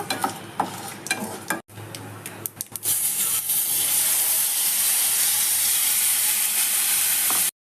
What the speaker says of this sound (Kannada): ನೀರೆಲ್ಲ ಹಿಂಗೋವರೆಗೂ ಫ್ರೈ ಮಾಡ್ಕೊಳ್ಳಿ